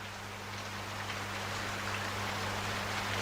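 Steady, even rain hissing as a constant wash of noise, with no voices and a faint low hum underneath.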